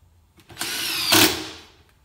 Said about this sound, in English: I tighten these up until the impact starts to hammer just a little bit